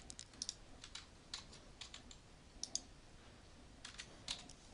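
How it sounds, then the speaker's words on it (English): Computer keyboard typing during data entry, quiet bursts of irregular key clicks in short clusters, close and alone. "Just typing in some data."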